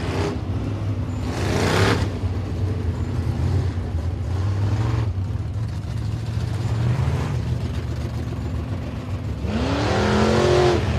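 Limited Modified race car on a hot lap at Boothill Speedway, engine roaring steadily with repeated swells as the car accelerates past and revs through the turns, loud and near, with no voices.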